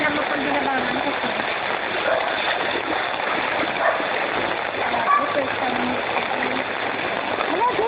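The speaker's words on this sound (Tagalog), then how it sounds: "Grabe kalakas ang agos." A strong current of floodwater rushes steadily through La Terraza subdivision in Imus, Cavite during Typhoon Maring, a constant broad roar of churning water with faint voices talking underneath.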